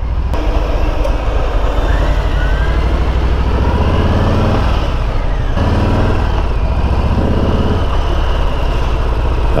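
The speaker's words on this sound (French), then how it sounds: "C'est pas moi qui fais ce bruit-là. Qu'on soit bien d'accord, c'est le bus qui est devant." A city bus idles and pulls away in traffic in Tours, a loud low diesel rumble with shifting revs, heard up close for nearly ten seconds with no talk.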